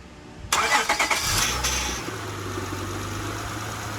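A J-series engine swapped into a car cranks and catches at close range, a loud starter burst that settles into a steady low idle with some vibration, no talk over it.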